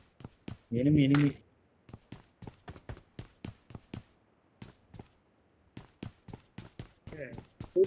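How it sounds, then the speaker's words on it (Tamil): Steady, crisp footsteps in a video game tap out a regular running rhythm close by, interrupted by two short bursts of other game sounds. "ஃபுட் ஸ்டெப் மட்டும் கேக்குது"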